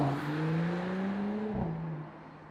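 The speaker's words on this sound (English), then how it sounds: "we have an exhaust button that we can press right up here on your center console, and then you can instantly hear how the valves of this car open" A 2020 Mercedes-AMG GT 43 4-Door idles with a low, steady exhaust drone and a brief rising blip as the performance exhaust valves open, then settles back down, quiet and close.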